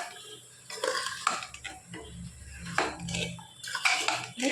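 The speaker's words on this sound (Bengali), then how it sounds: "এবার কাশ্মীরি লঙ্কা আর গোলমরিচটা একটু ভালো করে মিশিয়ে নিচ্ছি" Chicken being stirred with Kashmiri chili powder and black pepper in a pan, with irregular scraping and clinking of a utensil against the cookware, close and moderately loud, with brief pauses between strokes.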